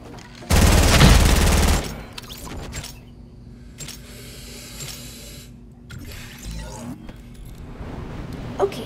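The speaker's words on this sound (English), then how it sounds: "Dude, stop shooting me!" Gunfire in Fortnite: a loud, rapid burst of shots lasts about a second, then quieter scattered shots and hissing effects follow.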